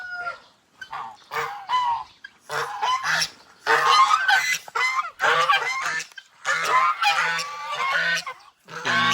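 Loud, repeated gobbling and honking calls from several turkeys close by, overlapping in bursts with short pauses, no speech.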